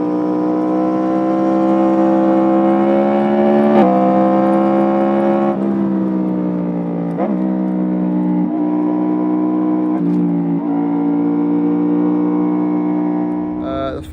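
A Yamaha MT-10 motorcycle with a Flashtune tune and aftermarket pipe holds a loud, steady engine drone that rises and dips through several gear-like shifts, close and continuous for about fourteen seconds.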